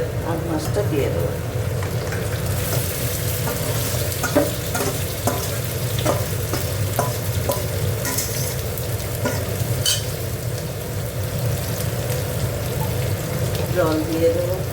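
Aar fish being fried and stirred in a wok-style pan over onions that have already browned, with a steady loud sizzle and repeated scraping stirs throughout, close up.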